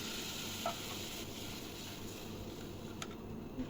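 Spices and fried potatoes sauté in a pan for a Bengali tel koi fish curry, a quiet, steady sizzle with faint stirring scrapes and a couple of soft clicks.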